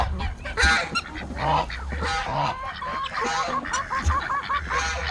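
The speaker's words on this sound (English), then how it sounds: "Look at those little ducks over there." Outdoor birds honk and quack repeatedly at close range, several loud calls in quick bursts over light background noise, with no voices heard.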